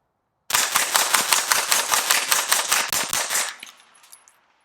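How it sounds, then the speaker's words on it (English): A Smith & Wesson Response AR-9 9mm blowback carbine fired through a suppressor empties its magazine in one rapid string of roughly fifteen sharp, evenly spaced shots, loud and close, followed by a short fading echo. "we'll do a little mag dump for you"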